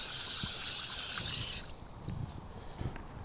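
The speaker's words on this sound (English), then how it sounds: "So just kind of jiggle this around in the water." Garden plant roots swished and jiggled in a container of water to rinse off soil, giving a steady bright splashing trickle for about a second and a half before it drops to soft, faint dripping and sloshing.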